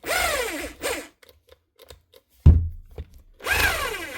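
An older Bosch GBH 36 VF LI 36 volt cordless SDS drill whirs in two brief bursts, with a few quiet clicks and a thud between them, then whirs in a third short burst.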